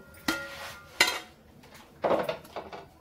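A cooked chapati is lifted out onto a plate, giving a few sharp, close clinks and scrapes of utensils against dishes with quiet gaps between them and no talking.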